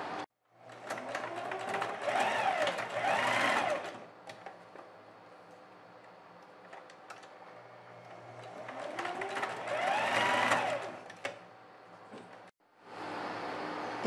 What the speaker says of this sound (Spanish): vamos a realizarle una costura para luego introducirla por acá